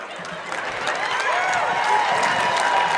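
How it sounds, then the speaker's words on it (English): Stand-up comedy audience applauding and cheering, a broad crowd roar of clapping that swells gradually, with voices blended into the noise. "And then the crowd goes crazy."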